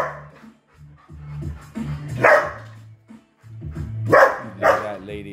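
A Belgian Malinois puppy lets out several sharp, close barks and yips in uneven bursts, with people talking in between.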